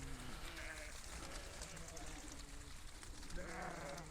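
Lambs bleat on a farm as they are let through gates, several harmonic calls at the start and again near the end over steady outdoor noise, with a person's voice also present.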